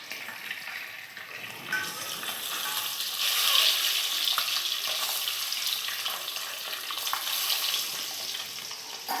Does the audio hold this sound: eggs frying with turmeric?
yes